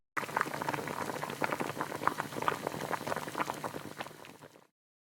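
Ramyeon noodles boil in a pot with a steady, close bubbling and popping that goes on for several seconds and then stops abruptly.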